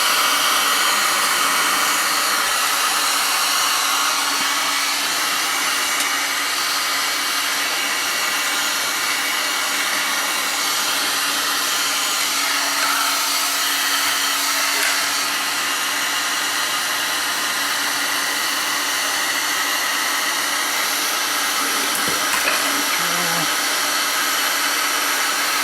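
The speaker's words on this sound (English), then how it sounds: "So the heat gun going here." A heat gun blows a steady, loud hiss close by during a cuckoo clock repair, running continuously with a few faint clicks and handling noises near the end.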